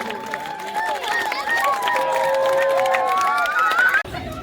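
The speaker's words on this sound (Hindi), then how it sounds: "तालियां रुकनी नहीं चाहिए।" Sustained crowd applause at a Dr. B.R. Ambedkar statue unveiling in Kudan, thick continuous clapping with voices and tonal sounds over it, cutting off abruptly near the end.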